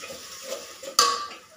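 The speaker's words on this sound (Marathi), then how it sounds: "हे बघा आलं लसूण मिरची, तर ही घालूया यामध्ये। तर हे भाजून घेऊया।" Ginger, garlic and chili paste hits a hot pan, a sudden sharp sizzle bursting out after soft stirring noises and then fading slightly, close and without talk.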